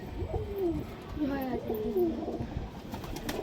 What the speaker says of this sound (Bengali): নর পায়রা, লাল কাঠলাল যেটাকে বলে